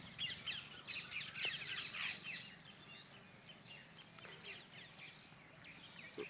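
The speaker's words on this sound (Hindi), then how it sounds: "तो ये मेरे सभी प्यारे प्यारे पक्षी सुबह सुबह आ जाते हैं।" Small birds chirp and tweet steadily in the early morning, with many quick overlapping calls at a middle distance over a soft outdoor hush.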